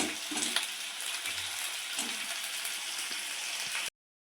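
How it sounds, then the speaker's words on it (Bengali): Carrots, beans and potato sizzle softly as they fry together in a pan, with a steady light crackle and a few stirring bumps before the sound cuts to silence near the end. "এই সঙ্গে আমি আলুটাও দিয়ে দিলাম একসাথে তাহলে ভাজা হয়ে যাবে"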